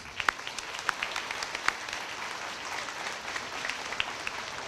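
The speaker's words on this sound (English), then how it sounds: "So I think you should all give yourself a round of applause" A school audience at an elementary school's character award ceremony applauds, giving a fairly soft, steady patter of many hands with a few sharper individual claps standing out near the start.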